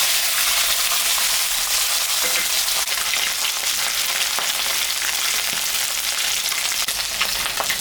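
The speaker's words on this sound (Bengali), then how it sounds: "মাছটা আমি এখন ভাজে নেব।" Singhi fish frying in hot oil makes a loud, continuous sizzle and crackle close up, with small pops and no talk.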